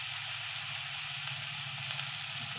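Spices frying in hot oil in a pan give off a steady, close, even sizzle that holds without a break, with no voices over it.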